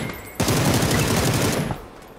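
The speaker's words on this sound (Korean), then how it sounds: "지붕에 쏜다." Rapid automatic gunfire in the battle royale video game PUBG rattles off in one dense burst of about a second and a half, loud and close, with no talking over it.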